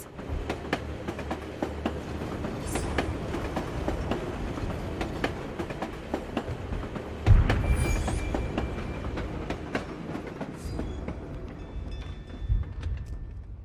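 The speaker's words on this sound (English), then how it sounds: "This tram will take me to the edge of the Volga." A tram in the video game Assassin's Creed Chronicles: Russia rolls steadily along its rails, a continuous low rumble with repeated clickety-clack wheel beats and a louder jolt midway, with no talking.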